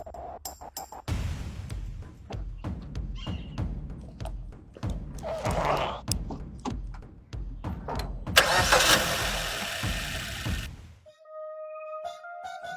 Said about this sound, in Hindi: एक बार गाड़ी स्टार्ट करना।